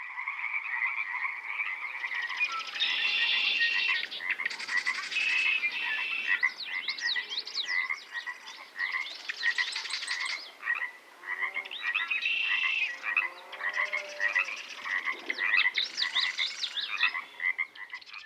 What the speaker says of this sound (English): And this is the chorus of wildlife that Nick recorded